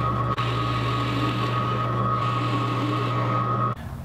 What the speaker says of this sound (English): using a Forstner bit, I'll drill a hole partway through the piece to accept the dowel.